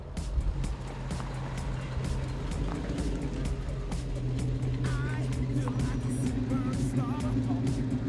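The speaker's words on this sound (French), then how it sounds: "Là, t'as la Mustang qui arrive." A Ford Mustang arrives on an asphalt lot, its engine a steady low rumble that swells slightly as it approaches, while people talk nearby.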